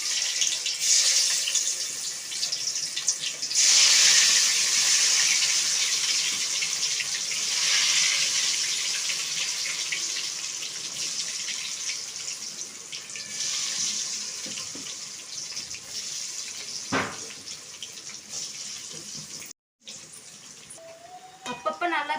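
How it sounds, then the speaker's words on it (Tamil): Cauliflower 65 pieces dropped into hot oil sizzle with a steady, loud hiss throughout, swelling briefly as more florets go in, with a short gap near the end. "இப்போ காலிஃப்ளவர் எண்ணெயில் போட்டுக்கலாம்."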